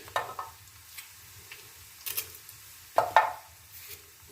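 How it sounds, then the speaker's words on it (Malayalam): Small shallots frying in oil for a fish curry sizzle softly in the background, broken by several sharp scraping stir strokes of a spoon in the pan, close and fairly quiet. "ചെറിയ ഉള്ളി തന്നെ മൂപ്പിച്ചിടണം കേട്ടോ"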